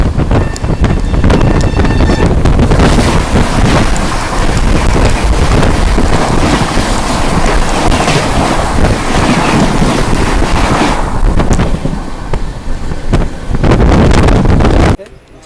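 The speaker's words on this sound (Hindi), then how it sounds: "ये आ गए उड़ीसा संपर्क क्रांति सुपरफास्ट एक्सप्रेस।" The Odisha Sampark Kranti Superfast Express pulls in as a loud, close, continuous roar with heavy wind buffeting, sustained for about fifteen seconds before it cuts off abruptly.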